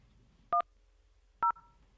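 Two short telephone keypad tones sound in quiet, one for 1 and then one for 0, each a crisp paired-pitch beep about a second apart, clear and close.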